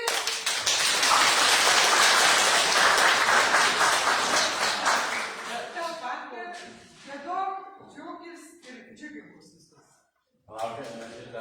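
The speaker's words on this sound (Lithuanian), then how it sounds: "Tai plojimai, Kotrynai!" Audience applause at a Lithuanian church service in Klaipėda, a dense burst of clapping for a young competition winner that fills the first six seconds, then thins and gives way to speech and a pause.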